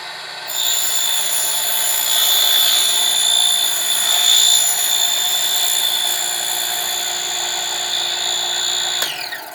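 A miniature table saw rips strips of wood, whining at a high, steady, loud pitch for several seconds, then cutting off abruptly.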